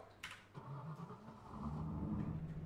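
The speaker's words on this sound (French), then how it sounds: "Je démarre le moteur." A BMW M235i starts up: a short crank and catch, then a steady, low engine idle that grows fuller and slightly louder, heard alone with no talking.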